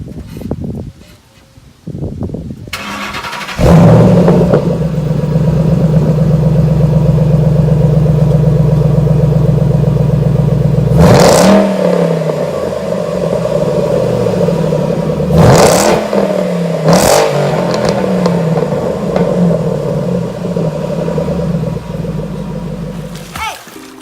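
A Shelby GT500 convertible fitted with a Corsa exhaust starts up and settles into a steady, deep V8 idle. Three sharp revs surge and fall back over the rumble, and faint voices talk nearby.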